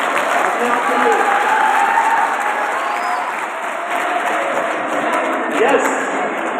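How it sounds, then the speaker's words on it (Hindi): Sustained applause from a student audience at a college career counselling seminar, a dense steady wash of clapping lasting the whole stretch at even loudness. "वंडरफुल, तालियां अपने आप के लिए।"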